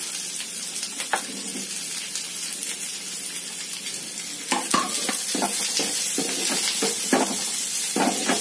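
Chopped onion and green chilli frying in a pan for Maggi noodles, a continuous loud sizzle with scattered stirring scrapes and clacks from the spoon.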